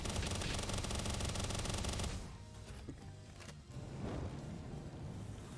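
Rapid automatic gunfire rattles loudly in PalWorld for about two seconds, then cuts off, leaving quieter game ambience with faint scattered shots.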